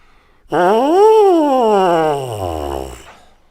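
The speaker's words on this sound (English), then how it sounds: "cup-shaped mouthpiece, just like all the other brass instruments" A loud, rising and falling buzzy brass tone, a bare trombone mouthpiece buzz that swoops up, then slides down low and trails off, heard alone.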